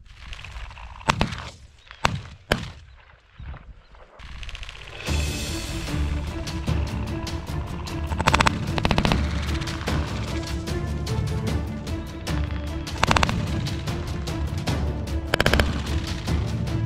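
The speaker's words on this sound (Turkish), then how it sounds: "Güzel bir fermada tüfek attın" Shotguns fired during a partridge hunt in snowy mountains: a few sharp reports early on, then a dense, loud stretch of rapid cracks and rumbling blasts that continues to the end.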